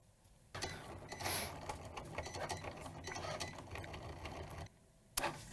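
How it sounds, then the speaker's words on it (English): Cricut cutting machine cutting a design into material for a hat, a busy mechanical whirring and ticking that runs steadily for several seconds, starting and stopping abruptly, with a brief louder clatter partway through. "it looks like the machine is done cutting"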